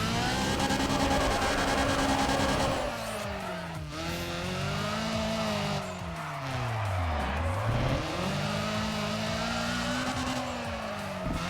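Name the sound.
car engine revving, Nissan Silvia/240SX in Need for Speed ProStreet video game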